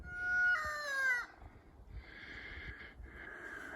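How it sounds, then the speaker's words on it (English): A rooster crows out in the woods with a drawn-out, rising-then-falling call, followed by quieter clucking and chatter from chickens at moderate distance. "Chickens are in the woods."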